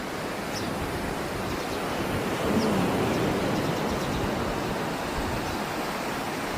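Sea waves washing up onto the shore at Zanzibar, a broad continuous hiss of surf that swells slightly in the middle, with wind across the microphone and no voices.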